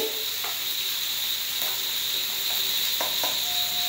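Onions frying in a pan after salt is sprinkled in, a steady soft sizzle with a few faint clicks of stirring, close and alone.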